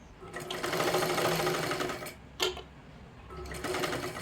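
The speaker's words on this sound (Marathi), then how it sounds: "हे पहा अशा पद्धतीने शिलाई करून घ्यायची आहे" A sewing machine stitching blouse fabric for a princess-style blouse, running in a fast, close mechanical whir with a brief pause before starting again.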